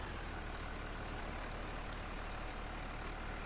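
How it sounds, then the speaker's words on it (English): A tractor in Farming Simulator 19 braking, a steady low engine drone with a hissing brake sound throughout, loud and continuous with no talk. "Oh, I hate the braking on this tractor."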